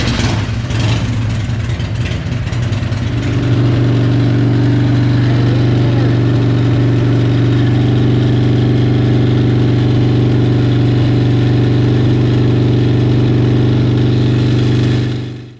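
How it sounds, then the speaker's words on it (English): Harley-Davidson Evo motorcycle engine held steady at 2000 RPM during a stator and voltage regulator test, a loud, continuous low rumble with a constant drone and no talking, cutting off at the end. "to lock the bike at 2000 RPM"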